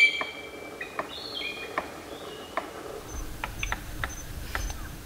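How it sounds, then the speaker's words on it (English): Sharp, spaced knocks of a palm cockatoo drumming an object against a tree, a dozen or so irregular taps at moderate distance over a quiet background with faint chirps. "So that's the sound of a bird called a palm cockatoo."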